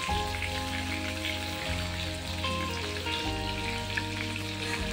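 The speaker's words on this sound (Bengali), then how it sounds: "আমি এখন আলুটা ভেজে দিচ্ছি" Potatoes fry in hot oil in a home kitchen pan, a dense, even crackle and sizzle like light rain that stays steady and close throughout, with no voices.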